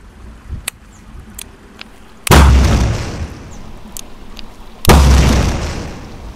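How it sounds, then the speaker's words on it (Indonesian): A homemade spirit-fuel firecracker (mercon spiritus) built from a jointed can tube, set off outdoors: two loud, deep booms a few seconds apart, each with a long rumbling tail, after a few faint clicks. "langsung saja kita nyalakan seperti apa suaranya Mercon Spiritus BB-Lark dengan sambungan"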